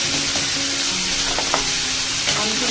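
Asafoetida (hing) dropped into hot oil in a pan for a Marathi-style kakadi gharya, giving a steady close sizzle and frying crackle with a few sharper pops, no voices.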